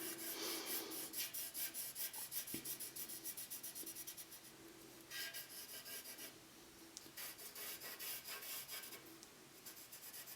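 Graphite pencil shading across drawing paper, a steady close rasping rub that continues throughout with small shifts in stroke direction, no talking.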